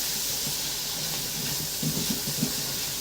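Spices sizzling and hissing in hot oil in a pan while cooking aloo gobhi, a steady close frying hiss with faint crackle and no talk.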